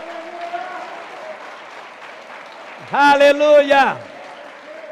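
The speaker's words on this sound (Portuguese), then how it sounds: "Aplauda Jesus e encha esse lugar de louvor." A church congregation claps in a short, loud burst of applause lasting about a second during an Easter sermon, mixed with voices calling out praise, then fades back to the speaker's voice.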